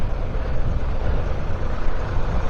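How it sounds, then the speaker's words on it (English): A tractor rumbles past close by, a dense continuous engine roar that stays steady and loud over the whole stretch, heard outdoors alongside a lake trail. "Tractor."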